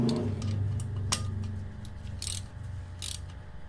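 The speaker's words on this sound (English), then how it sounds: "this hub will allow us to tighten the rotor retainer bolt" A bolt is tightened with a ratcheting tool on a Mini Cooper F60 Countryman front hub, a close clicking run of mechanical ticks with a few sharper metallic taps, no talking.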